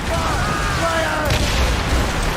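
Ship cannons fire in a naval battle in Assassin's Creed Rogue, heavy booms rolling under a dense wash of battle noise, with a sharp blast about halfway through.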